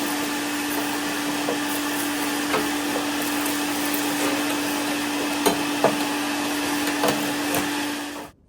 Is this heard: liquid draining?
no